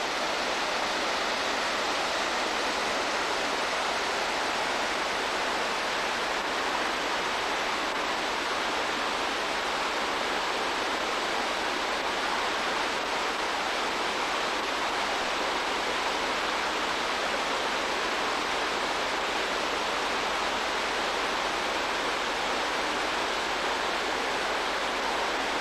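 Steady, broadband rush of water tumbling over moss- and algae-slick sliding rocks at a waterfall in the South Pacific, continuous and fairly close with no voices.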